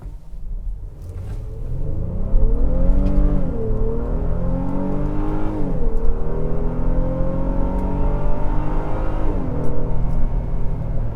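A Honda Pilot TrailSport engine, rated at 285 horsepower, accelerates hard on the road, rising through a sweeping climb in pitch with gear changes along the way. The sound stays loud and steady and runs alone with no talk.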